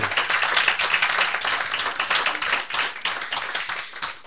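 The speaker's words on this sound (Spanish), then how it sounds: "Denle un aplauso fuerte al Señor." A church congregation claps loudly and steadily together, a dense, sustained applause filling the space for several seconds at close range.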